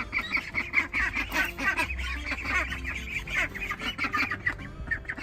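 A flock of farmyard ducks quacks and honks loudly in dense, rapid bursts, close by and continuous, with goose-like calls overlapping throughout and no voices.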